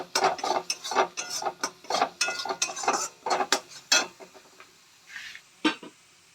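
Metal spoon scrapes and clinks against a pan while turmeric and spices are sautéed for mustard fish curry, with quick irregular clatters that fade into a few sparse taps.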